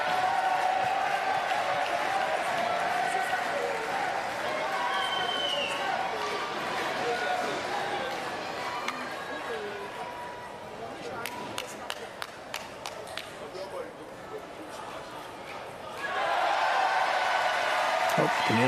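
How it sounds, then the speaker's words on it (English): Crowd noise and scattered applause from spectators at a para table tennis standing doubles match in Paris, a steady background murmur with bursts of clapping and a swell of cheering near the end, with no clear talk over it. "you can hear the crowd in the background, obviously."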